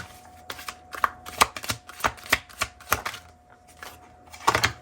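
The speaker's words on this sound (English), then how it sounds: "let's grab some tarot. I'll be pulling from my Yummy Tarot here." Tarot cards being shuffled, a run of crisp riffling bursts and slaps coming in quick, uneven clusters, close and fairly loud, with a faint steady hum underneath and no talking.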